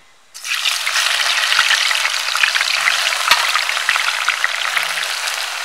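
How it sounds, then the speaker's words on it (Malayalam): Potato slices deep fry in hot oil for homemade crispy chips, a loud, continuous bubbling sizzle that starts abruptly and holds steady throughout, with a few faint clinks and no voices. "ബാക്കിയുള്ളത് നമുക്ക് ഇതേപോലെ ഇട്ട് വറുത്തെടുക്കാം."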